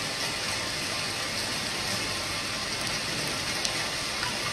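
Steady rain sound effect played on stage during a one-act play in a drama competition final in Mumbai, a dense even hiss that continues unbroken and alone, with no voices over it.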